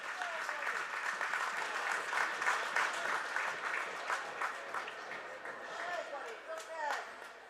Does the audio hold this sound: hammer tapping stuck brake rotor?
no